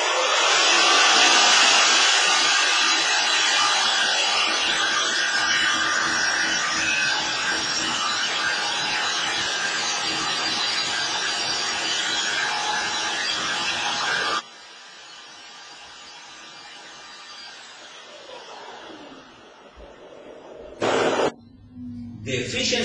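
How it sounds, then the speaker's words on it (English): An advanced liquid ring compressor with a rotating casing, a 2012 proof-of-concept prototype for the Agam heat engine, runs with a loud, steady broadband whir. It drops sharply in level partway through, followed by a few brief bursts near the end. "This is advanced liquid ring compressor with rotating casing."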